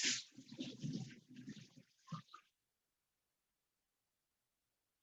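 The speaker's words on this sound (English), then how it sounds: "Just rinse my hand a little bit." Running water from a kitchen tap splashes over a hand being rinsed while preparing ribeye steak, a steady close gush for about two seconds, then a short final splash before the tap cuts off to silence.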